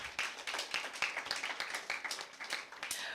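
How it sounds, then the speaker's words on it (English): Light, thin applause from a small audience at a school debate competition, individual claps distinct and uneven, quiet and somewhat distant. "Another round of applause."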